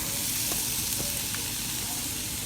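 Onion frying in oil in a pan, a dense, even sizzle close by that holds steady throughout with a few faint clicks beneath it.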